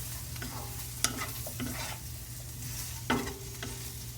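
Stuffed okra cooking in a pan over lowered heat gives a soft, steady sizzle with a few sharp clinks of a spatula stirring, close and moderately quiet, with no talking.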